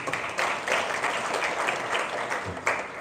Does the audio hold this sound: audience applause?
yes